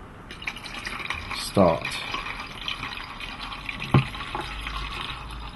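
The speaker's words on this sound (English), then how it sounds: "so it's time to put the Caffenol in." Caffenol developer is poured into a film developing tank in two short liquid splashes a couple of seconds apart, close and brief, with a person speaking around them.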